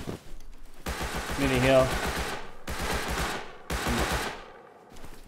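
Rapid automatic gunfire bursts in a survival shooter game, three loud sustained volleys separated by short pauses, with players talking over and between the shots.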